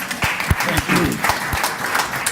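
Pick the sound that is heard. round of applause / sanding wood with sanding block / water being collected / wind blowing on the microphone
round of applause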